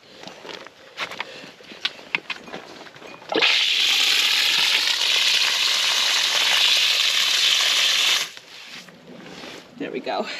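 Water gushing from a freeze-free hydrant on a homestead in single-digit freezing temperatures, a loud steady rush lasting about five seconds that cuts off abruptly, with quieter handling clatter before and after.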